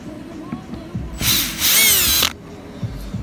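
A power driver with a T20 bit whirs in one sustained burst lasting about a second, backing screws out of a 2014 Chrysler Town & Country / Dodge Grand Caravan door. Quiet handling noises come before and after it.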